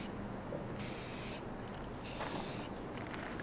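An aerosol can sprays paint onto the removable plastic top panel of a Pure Base 600 computer case being refinished in retro beige, giving two brief hissing bursts over a faint, steady background.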